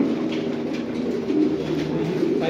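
Racing pigeons inside a loft cooing in low, continuous, overlapping murmurs, close by and steady throughout, with no talking.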